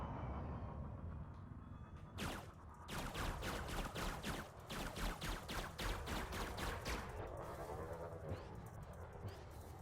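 Ship weapons firing in Elite Dangerous, a Sidewinder in a space dogfight: a fast rhythmic burst of about a dozen sharp shots, loud and close over a constant engine rumble, trailing into a warbling tone.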